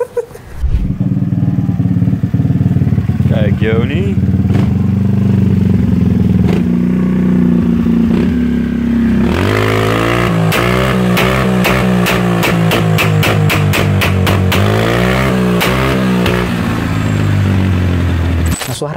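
A close Gilera DNA 180 scooter engine with an aftermarket Balosi exhaust idles loudly, then revs hard in repeated rapid bursts, its exhaust crackling and sharp, with a brief voice early on.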